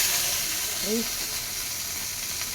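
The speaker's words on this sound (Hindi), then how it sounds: "चलो इसको अभी फ्राई कर लेते हैं अच्छे से" Bitter gourd (karela) frying in hot oil in a home kitchen, a steady broad sizzle and hiss throughout, with a short faint squeak of utensils near the middle.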